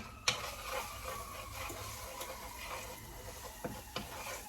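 Garlic and a little basil sizzle gently in hot oil in a pan, a soft continuous crackle with a few light spoon taps and stirring scrapes against the pan, quiet and close.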